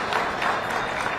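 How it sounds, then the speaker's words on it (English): Applause fills a Capitol gathering for MMIP Day, a short burst of dense, even clapping from many hands, moderately loud and without any talk. "I think that's worthy of applause"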